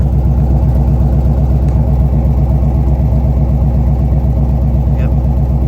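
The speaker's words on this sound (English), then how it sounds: "That is a much happier idle." A square-body truck's engine idles steadily after fresh spark plugs, a close, even, low rumble with a smooth rhythmic pulse and no talking.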